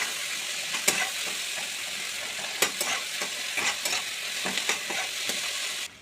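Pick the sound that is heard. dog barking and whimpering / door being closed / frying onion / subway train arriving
frying onion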